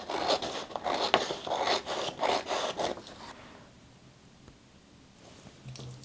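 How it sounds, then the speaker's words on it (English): Tape being pulled and pressed onto printed paper sewing pattern pages, a run of close, loud ripping and rubbing strokes for about three seconds, then quieter handling of the paper. "I'll stick some tape down there"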